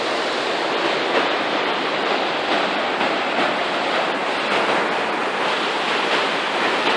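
Trinity River rushing in a heavy, steady roar of water, close and loud throughout with no pauses or voices.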